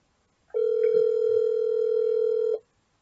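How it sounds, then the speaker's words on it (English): One steady ringback tone plays on an outgoing phone call while waiting for an answer, lasting about two seconds, loud and clear with faint sounds beneath. "Come on, boy, answer the phone."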